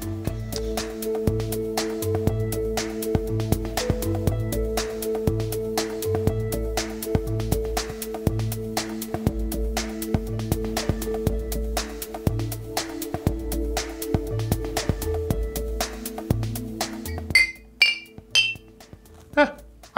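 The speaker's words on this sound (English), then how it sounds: "a glass xylophone, I guess" Glass bottles tuned with water are struck like a xylophone, a steady run of bright, ringing clinks over a repeating low pulse, ending in a few louder, sharper strikes.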